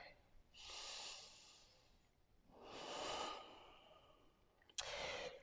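Slow, deep breaths during a yoga session: long airy exhalations and inhalations in a calm rhythm, close to the microphone, with a sharper snort-like breath near the end.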